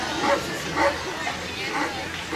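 A customs service dog barks during a training demonstration of heel walking in a noisy, distracting crowd setting; a few spaced yips and barks sound over steady background chatter.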